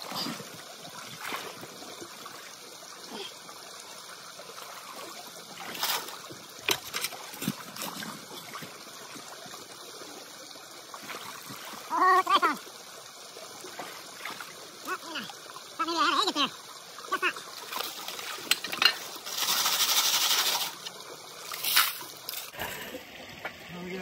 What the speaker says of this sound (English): I'm going to fill up another pail classified and run it through the sluice.